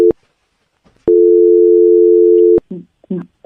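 A steady telephone ringback tone on a call line sounds in one long unbroken burst of about a second and a half, with a short beep before it. Brief voice fragments follow it.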